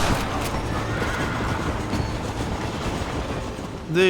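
A train running in the video game Red Dead Redemption gives a steady, continuous rumbling roll with a low mechanical drone throughout, ending in a sharper, louder burst.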